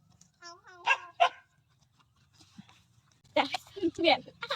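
A dog on a small family farm, where chickens and Muscovy ducks are kept, gives two sharp nearby barks, followed by a stretch of quiet and then a burst of further barking mixed with talking.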